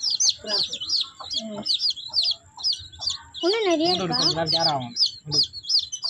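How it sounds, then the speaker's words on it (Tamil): Naked neck chickens with their chicks give repeated high, rapid peeping and soft clucks at close range, with a person speaking briefly over them partway through. "இதுதான் மொட்டை கழுத்து கோழி"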